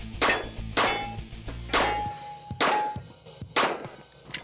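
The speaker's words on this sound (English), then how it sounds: "an extra shot on the steel adds time and puts Todd into 4th" Bullets striking steel targets at a 2004 USPSA Limited Nationals shooting competition: five loud metallic clangs, a second or so apart, each ringing briefly.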